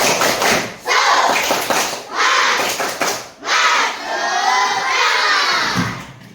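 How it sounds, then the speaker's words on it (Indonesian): A classroom of children performs the tepuk semangat clapping chant, shouting loudly together in rhythmic bursts punctuated by claps and short pauses. "Coba tepuk semangat dulu biar semangat ya."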